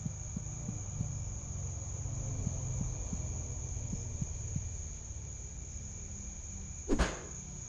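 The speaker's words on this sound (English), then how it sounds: "Ah, they're crickets." Crickets in a Psychopomp GOLD game scene chirp in a steady, faint, even pulse under a constant tonal hum, with one brief louder knock near the end.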